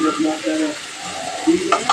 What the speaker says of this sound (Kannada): ಈರುಳ್ಳಿ ಸ್ವಲ್ಪ ಗೋಲ್ಡನ್ ಬ್ರೌನ್ ಕಲರ್ ಬರೋ ತನಕ ಫ್ರೈ ಮಾಡ್ಕೊಳ್ತೀನಿ